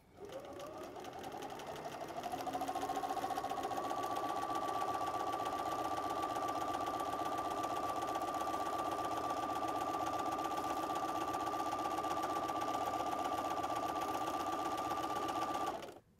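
A sewing machine running steadily for free motion quilting, its even motorized hum rising after a short start and holding at a constant close, loud level until it stops abruptly at the end.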